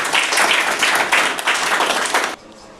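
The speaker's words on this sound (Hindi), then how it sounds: "चलिए बहुत बढ़िया, ताली मारिए।" A Class 6 classroom of students claps together in a brisk burst of dense, close hand clapping that swells in waves and then stops abruptly, leaving quiet room tone.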